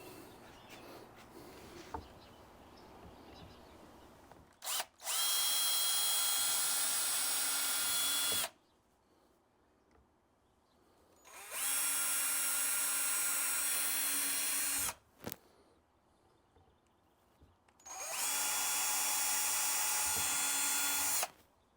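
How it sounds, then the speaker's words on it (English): A power drill with an acrylic drill bit drills acrylic for a claw machine, whining in three long bursts of several seconds each, separated by quiet pauses with faint clicks and handling noise. "I'm just gonna start off by doing some drilling."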